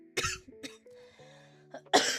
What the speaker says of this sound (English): If I am coughing during this